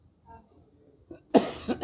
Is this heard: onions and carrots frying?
no